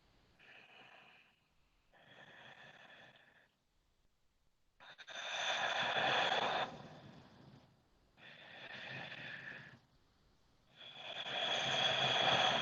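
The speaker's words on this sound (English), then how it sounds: "come back to that Ujjayi breath for 2 or 3 more breaths here" Ujjayi breathing during a yoga session, five slow, throaty, hissing breaths alternating inhale and exhale with short pauses between, close and steady, each growing fuller and louder.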